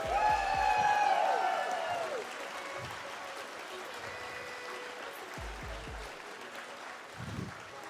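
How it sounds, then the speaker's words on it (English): An audience claps and cheers loudly at first, then the applause fades into a softer, steady crowd murmur with scattered low thumps. "Give them an applause, please."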